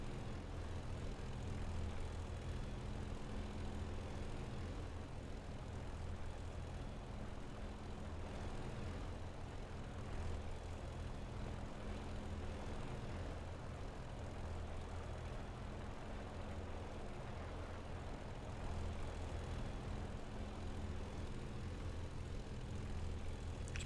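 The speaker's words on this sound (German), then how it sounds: "Das hört sich an wie ein Zweitakter, der auf einem Zylinder läuft." Steady, continuous drone of an aircraft engine in a flight simulator game, a constant propeller hum with a rough, sputtering edge like a two-stroke running on one cylinder, holding level throughout with no talk.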